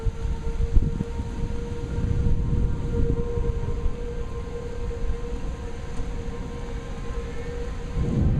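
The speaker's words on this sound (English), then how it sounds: "A 3-minute siren goes off at 5:11 p.m. from this first tornado warning" Outdoor civil defense tornado warning siren wails steadily at a distance in a rural area just west of Joplin, Missouri, a sustained tone over low rumbling background noise.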